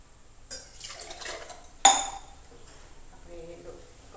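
Water is poured into a cooking pan where ingredients have fried in oil, ahead of adding Maggi noodles. A utensil clinks, then a sudden splash with a brief hiss follows, and faint kitchen clatter trails off afterward.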